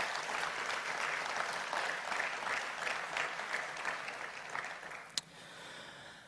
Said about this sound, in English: So I would like everybody to give them a round of applause for all the work that they put in.